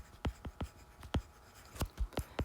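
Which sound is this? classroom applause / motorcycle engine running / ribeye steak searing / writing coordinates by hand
writing coordinates by hand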